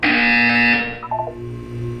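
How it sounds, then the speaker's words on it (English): A loud, steady electronic buzzer from the video game Portal 2 drones for about a second, then cuts off, leaving a few short electronic blips and a low hum. "You will hear a buzzer."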